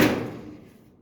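A single firm thud as a door on a 1929 Chrysler body swings shut, loud at first and then trailing off in a short metallic ring within about a second.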